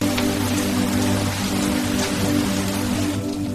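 Steady, dense rain falls in the mountains around Ooty, a constant hiss across the whole stretch with a low drone beneath it, close and even, no talk.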